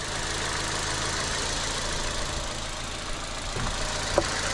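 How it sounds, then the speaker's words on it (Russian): A 2013 Kia Ceed's 1.4-litre 16-valve petrol engine idles under a sound-insulated bonnet, giving a quiet, even, continuous hum with a faint click near the end. "Вот так вот работает мотор."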